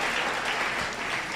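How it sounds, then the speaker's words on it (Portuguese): A Portuguese-speaking church congregation applauds, honoring a 90-year-old sister; a continuous, even wash of many hands clapping fills the space with no speech over it. "Vamos aplaudir ao Senhor pela nossa irmã?"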